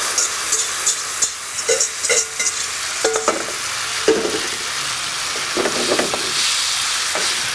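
Sauce hits a hot wok with garlic and sizzles loudly, a steady frying hiss broken by stirring clatter and spatula scrapes, cooking for mussels with black beans.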